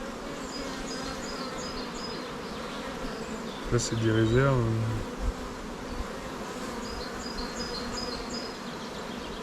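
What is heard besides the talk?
honeybees buzzing, beating their wings in hive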